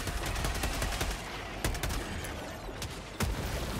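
Rapid automatic gunfire rattles in Helldivers 2, a steady stream of sharp shots with a few heavier reports punctuating it, loud and continuous throughout.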